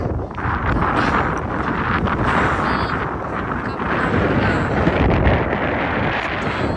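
Strong wind buffets the microphone, producing a loud, continuous rumbling roar that barely lets up.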